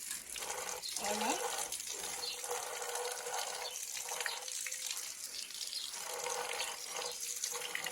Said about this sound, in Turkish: Şuradaki tekerlerini de yıkayayım.